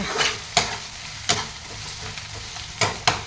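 Vegetables stirred into a hot tempering for a yellow potato curry, a soft steady sizzle of oil with a few sharp spatula scrapes against the pan, close and alone.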